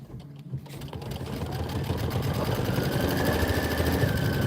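An embroidery machine sews a placement stitch for a small purple part of a winter design, its motor whirring in a fast, steady buzz that builds in loudness after a brief start, with no talking.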